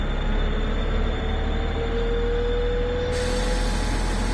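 DB Vossloh G6 shunter locomotive in Train Sim World 2, its diesel engine held at full power with a steady low rumble and a faint rising tone, no voices.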